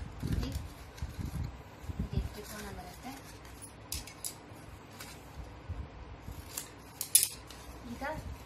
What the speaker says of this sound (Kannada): 2 ತ್ರಿಕೋನಗಳಲ್ಲಿ 1 ತ್ರಿಕೋನನ ಪ್ರತಿ ತುದಿಗಳಲ್ಲೂ ನಾನು ಕಟ್ ಮಾಡ್ಕೊಳ್ತಾ ಇದ್ದೀನಿ